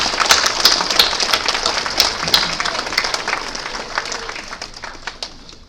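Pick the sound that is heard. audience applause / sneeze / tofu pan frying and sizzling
audience applause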